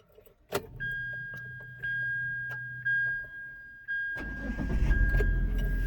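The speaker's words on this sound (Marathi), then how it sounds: "तर ह्याच्यामध्ये फर्स्ट आपण गाडी स्टार्ट करूया" A car being started with its self-starter: a click, then a repeating electronic chime over a low hum, and about four seconds in the engine catches and settles into a steady, fairly loud running rumble.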